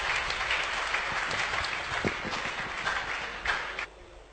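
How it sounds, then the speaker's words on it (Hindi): A poetry gathering audience applauds to welcome poet Mirza Sikandar Baig onto the stage, sustained dense clapping that holds steady and then cuts off near the end. "आप भरपूर तालियों के साथ उनका इस्तकबाल करें"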